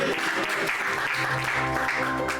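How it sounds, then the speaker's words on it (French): A church congregation applauds in praise, a dense, steady clatter of many hands close by, with faint voices mixed underneath. "on acclame le Seigneur"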